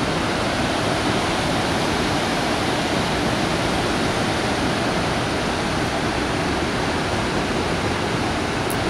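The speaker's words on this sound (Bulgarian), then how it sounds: "И чува се как бучи водата." A waterfall in Maligne Canyon roars steadily, a dense, unbroken rush of falling water that stays loud and constant throughout.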